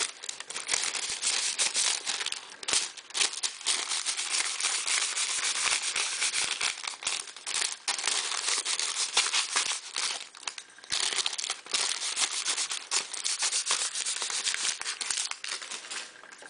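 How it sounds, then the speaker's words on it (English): Wax paper rubbed and crinkled against a handmade straight knitting needle to buff it, a continuous close crackling and rustling that runs steadily, with brief uneven dips, and no talk over it. "Make sure you take the wax paper and buff your needle."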